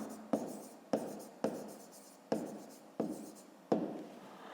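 Hand-writing an answer for a fifth-grade maths exercise, a pen scratching across paper in six short strokes, each starting with a sharp tap and trailing off, close and alone without speech.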